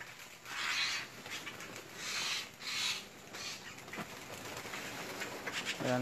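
Agitated birds, tagged as pigeons or doves, cooing and fluttering in a cemetery at night, a steady restless chorus with swelling bursts, fairly close, with no talking.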